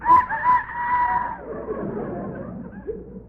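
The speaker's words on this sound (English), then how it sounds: "No, that's the rooster." A rooster crowing sound effect in an old radio comedy: a loud, drawn-out strained call that tails off, followed by faint rustling and a brief squawk.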